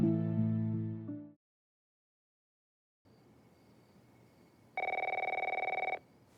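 A telephone rings in the opening of The Last of Us, a bell-like ring that stops abruptly. Quiet room tone follows, then one more loud, steady ring lasting about a second.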